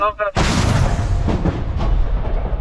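A loud artillery gun blast booms close by on a battlefield near Chasiv Yar, Ukraine, its heavy rumble rolling on and decaying over a couple of seconds after a brief voice.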